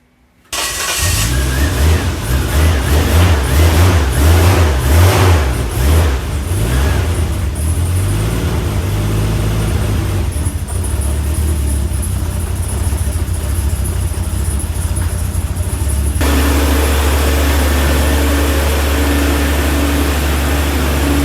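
A car starts up with a crank and catches, then revs repeatedly in rising and falling bursts before settling into a steady idle, loud and close inside a shed as it is pulled out onto a driveway.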